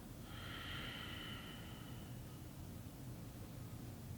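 A slow exhaled breath during a stretching exercise for upper back, neck and shoulder pain, a soft airy rush for about two seconds before easing off into quiet room noise.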